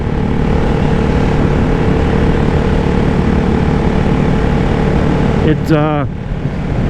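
Ducati Hypermotard 698 Mono single-cylinder engine cruising in fifth gear at a little over 4,000 RPM, about 50 mph on a rural road, a steady loud drone with rushing wind throughout and a brief rising whine near the end.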